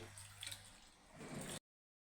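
Water poured off soaked sorghum grains, a soft steady splashing and gurgling into a sink that swells near the end, then stops abruptly.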